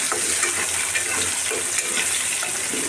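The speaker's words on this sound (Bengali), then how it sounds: "গোটা জিরা আর তেজপাতা দিয়ে ফোড়ন দিলাম, পেঁয়াজ দিয়ে দিলাম" Onion frying in oil with whole cumin and bay leaf, a loud, continuous sizzle with bright crackling and occasional stirring scrapes, close up and steady.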